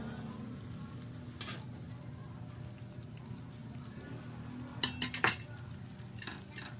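Broccoli and pork cook in a pan with dissolved cornstarch, a low steady sizzle with a few clinks of a utensil against the pan near the end.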